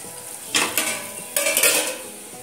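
Pots, dishes and cutlery clattering in a kitchen sink during quick washing, two bursts of clinks and scraping, fairly near, with no talk.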